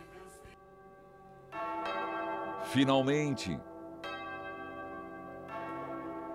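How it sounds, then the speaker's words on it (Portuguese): Church bell rung by a sacristan during a novena, struck several times with long ringing tones, while a voice speaks briefly over the ringing. "toca o sino, sacristão."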